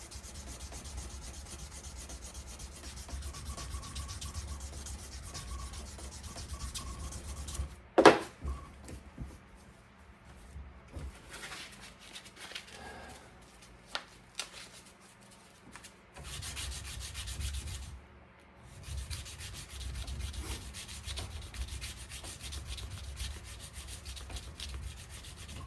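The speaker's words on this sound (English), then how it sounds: "as you're sanding along, you'll start seeing this thing it'll get shinier" Steady abrasive rubbing of sandpaper by hand against a steel knife made from a horseshoe, continuous scratchy strokes with a few brief pauses and a sharp clink partway through.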